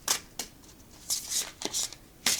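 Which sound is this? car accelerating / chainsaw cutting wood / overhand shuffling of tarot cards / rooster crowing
overhand shuffling of tarot cards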